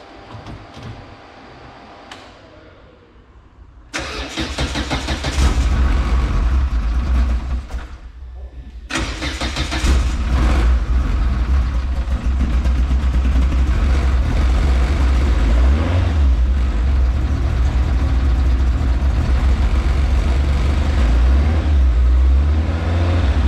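A Renault Clio Maxi rally car engine cranks with a starter whir, briefly catches and stumbles, then fires up into a loud, lumpy idle that rumbles close by and steadily. A voice talks early on.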